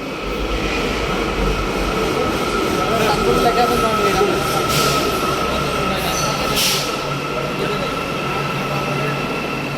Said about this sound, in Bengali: এই যে ট্রেন চলে আসছে, দেখেন 5 মিনিট পর পর ট্রেন আসে।